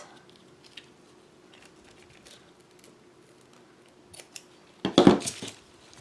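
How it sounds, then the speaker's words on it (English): Scissors cut a piece of ribbon for a decorated craft tag, a few faint clicks and handling noises followed by a loud, close burst of snipping near the end. "So I have this ribbon. I'm going to cut a piece."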